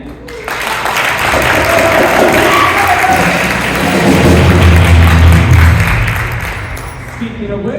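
Loud audience applause at a high school band spring concert, a thick roar of clapping that swells and then tapers off, with some voices under it.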